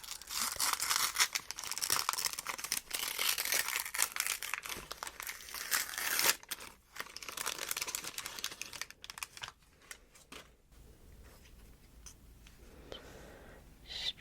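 A Magic: The Gathering Final Fantasy card pack being opened up close, with continuous crinkling and tearing of foil wrapper and soft shuffling of cards, steady and intimate with no talk.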